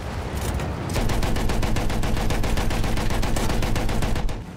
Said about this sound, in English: A lot of shit shooting at me.